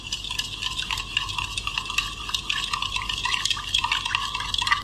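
Spoon stirring sugar into milk in a glass or bowl until it dissolves, a steady run of soft liquid swishes and light clinks, close and continuous.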